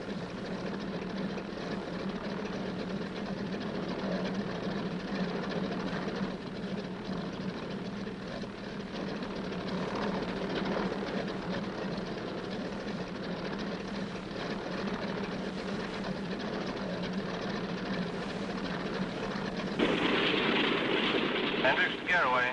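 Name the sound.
aircraft engines during takeoff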